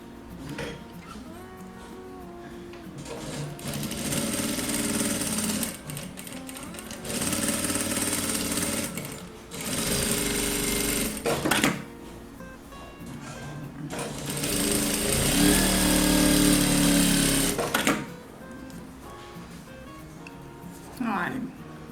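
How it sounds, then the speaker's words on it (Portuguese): A sewing machine stitching a strap onto the side of a baby bag, several loud close bursts of rapid mechanical stitching separated by pauses, with someone talking in between. "Vou costurar aqui do ladinho."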